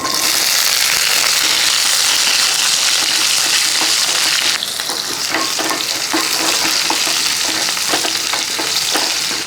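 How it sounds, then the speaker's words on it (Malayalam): About twenty small shallots dropped into hot oil with cumin, a loud dense sizzle that dips slightly midway and then crackles on with stirring clicks, close up and without talk. "ഒരു പത്ത് ഇരുപത്തഞ്ച് ചെറിയ ഉള്ളിയുണ്ട് ആ ഉള്ളി അങ്ങോട്ട് ഇട്ട് കൊടുക്കും"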